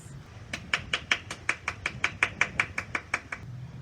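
Hand clapping at a moderate pace, about fourteen even claps in a steady rhythm, close and fairly crisp over a quiet low hum, with no voices.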